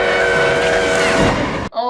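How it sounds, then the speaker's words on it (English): Train sound effect in the animated film An American Tail: a loud, sustained groaning whistle-like tone with layered harmonics that holds for under two seconds and then cuts off abruptly. "did they have to add a train sound effect here?"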